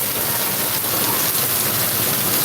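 Heavy rain falls during a thunderstorm, a loud, dense, unbroken hiss of drops striking surfaces nearby, with no distinct thunderclap standing out.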